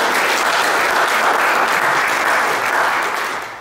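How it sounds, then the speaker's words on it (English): A church congregation at a Father's Day service breaks into steady, dense applause, a continuous wash of many hands clapping that holds evenly before tapering slightly at the end. "I think a hand clap of thanks to the Lord for this."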